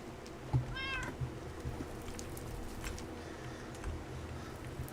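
A cat in the Minecraft video game gives one short meow early on, quiet against a low steady background hum and faint clicks.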